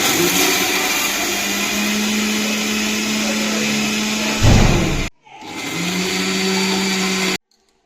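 Mixer grinder blending chips masala powder roars loudly and steadily, then pauses briefly and starts again for a second run before cutting off abruptly.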